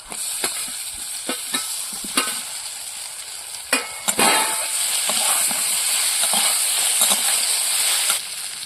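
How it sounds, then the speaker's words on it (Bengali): Boiled taro pieces go into a pan of frying garlic and green chillies, giving a continuous hiss of sizzling oil broken by the sharp clacks and scrapes of a spatula stirring at an irregular rhythm. "এবার একটু নেড়ে চেড়ে নেব। এবার সেদ্ধ করা কচুর গাঁটিগুলো দিয়ে দেবো।"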